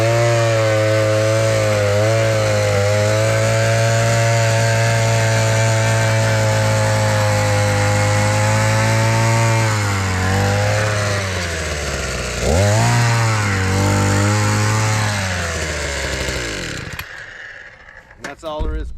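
A Prorun powered auger drills fence post holes for a split rail fence, its engine droning loud and steady close by, bogging and revving as the bit bites into the ground, then cutting off near the end.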